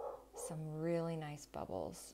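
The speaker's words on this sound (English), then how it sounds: "If you can hear my dog barking in the background" A dog barks in the background during a canvas painting session, short yips and bow-wows sitting faintly under a woman's close, steady talk.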